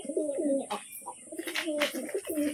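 Pigeons cooing nearby while a male fights another pigeon, repeated close, loud rolling coos with brief wing flaps and rustles between them.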